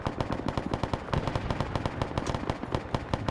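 Rapid automatic gunfire in a Vietnam War video game match rattles steadily through the whole stretch, with evenly spaced sharp cracks from several weapons overlapping, loud and close, and no one talking.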